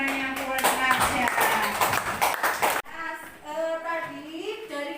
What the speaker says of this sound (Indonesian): beri tepuk tangan yang banyak buat Marsha